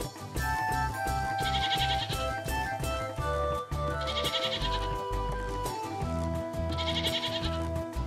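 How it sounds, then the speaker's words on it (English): Sheep bleat repeatedly in the farming video game Shepherd's Crossing, several drawn-out cries over a looping game music bed with no talking. "Oh, the bleating sheep."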